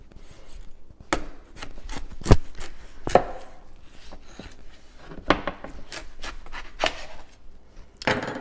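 A large, sharp chef's knife chops through a watermelon in sections. It lands in irregular, distinct thuds on a cutting board, with softer slicing and rubbing sounds between the strikes, close and alone.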